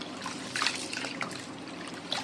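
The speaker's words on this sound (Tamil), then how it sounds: "அரிசி நம்ம ஃபஸ்ட்டு தண்ணி போடும்போது நல்லா அழுத்தி இந்த மாதிரி நம்ம வாஷ் பண்ணிக்கலாம்." Soaked ration rice is washed by hand in water, pressed and swished for chicken biryani, producing close, continuous sloshing and trickling with small splashy bursts and no talking.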